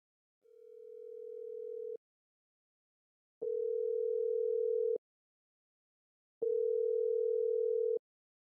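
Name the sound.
telephone dial tone, call not answered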